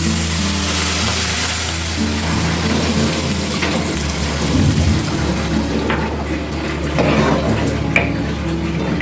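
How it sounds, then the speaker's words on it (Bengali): Water poured into frying rice in a pan for prawn pilau, a steady rushing hiss and sizzle with faint clinks of the pan, continuous and close throughout. "চালটা আমার ভাজা ভাজা হয়ে গেছে, এবার আমি জল দিয়ে দিচ্ছি।"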